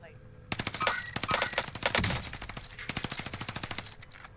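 Rapid automatic gunfire from a Warzone match, with a dense run of sharp shots in quick, steady bursts close up and loud, while voices talk over the shooting.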